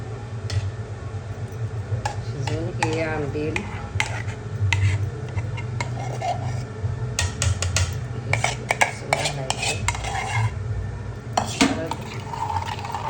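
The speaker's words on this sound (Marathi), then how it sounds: "सगळं एकजीव करायचं घोटायचं" A spoon stirs cooked jowar flour into buttermilk ambil in a pot, giving repeated soft scraping and clinking against the vessel, close and fairly quiet, with brief speech partway through.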